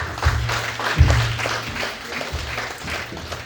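Audience members at a book launch clap for themselves, a moderate, somewhat scattered patter of hands lasting a few seconds with a low murmur behind it.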